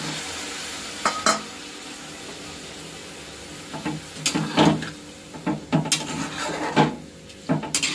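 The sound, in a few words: water added to pumpkin stems cooking in pan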